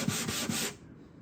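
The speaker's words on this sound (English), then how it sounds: "I will do that after I finish sanding the top." A cedar guitar top is sanded by hand in three quick, rhythmic rubbing strokes that are close and soft, then the sound stops.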